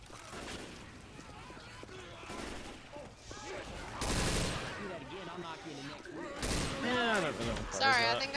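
Guns fire in a Left 4 Dead 2 player-versus-player match in quick, close bursts of rapid shots. Players talk over the gunfire.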